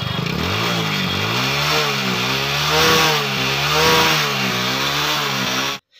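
A Hero Passion Pro motorcycle engine runs close by, loud and continuous, its pitch rising and falling gently as the throttle wavers, before cutting off abruptly at the end.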